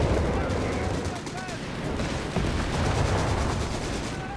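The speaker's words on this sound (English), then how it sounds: "One bit of a barrage around here." Artillery barrage in Company of Heroes 3, a dense, continuous rumble of distant shell fire and explosions with a commentator talking over the battle throughout.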